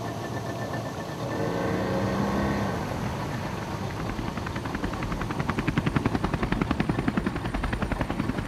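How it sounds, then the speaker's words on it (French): An Indonesian army helicopter passes overhead, its engine roar building into a loud, steady chop of rotor blades, with no voices present. "le passage d'un hélicoptère de l'armée indonésienne nous pousse à nous cacher"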